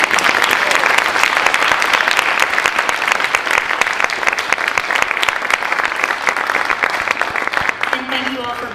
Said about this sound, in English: Can we give another round of applause for these amazing